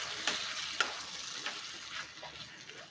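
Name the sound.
gently stirring sabudana khichdi in a pan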